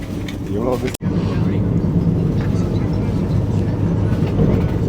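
A Vande Bharat express train running, heard from inside as a steady, loud rumble and roar. The noise drops out briefly near the first second, and faint voices sit underneath.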